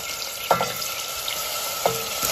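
Meat dropped into hot butter and oil over high heat for kebab with potatoes sizzles continuously, with two sharp spatters or stirring hits standing out above the steady frying hiss.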